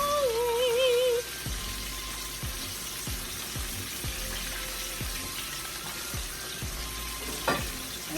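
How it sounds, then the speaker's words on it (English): Chicken frying in hot peanut oil, a steady bright crackle, with a few soft regular clicks and a brief tonal whine at the start. "It is frying, it is frying."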